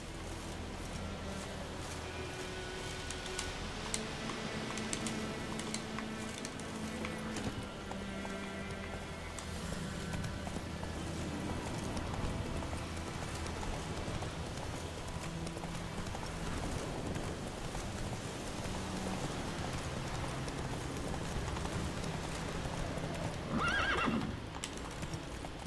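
Roach, a horse in The Witcher 3, gallops with rapid hoof clip-clops over steady falling rain, and a whinny rises near the end, all game sound with no talking.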